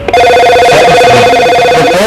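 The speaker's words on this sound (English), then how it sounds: "The phone just rang." A telephone ringing loudly and steadily through the whole stretch, a sustained bright electronic trill with repeating pulses, no voices over it, heard during a game.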